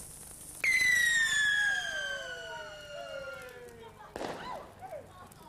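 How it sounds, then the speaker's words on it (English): A firework rocket on Guy Fawkes night shrieks with a long falling whistle, followed by a sharp crackling burst and a few fainter pops. "Then we let off fireworks, rockets,"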